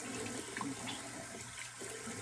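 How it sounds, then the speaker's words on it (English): Cold tap water runs steadily into a sink as a face is rinsed during a wet shaving routine, a soft continuous splashing stream close by with no talking. "now rinse with cold water"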